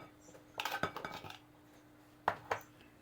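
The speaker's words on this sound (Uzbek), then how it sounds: "Qizlar, mana salatimizni aralashtirib oldik." A spoon clinks and scrapes against a bowl while a salad with corn and olive oil is stirred, giving a quick run of close clatters followed by two sharper taps after a short pause, with no talk.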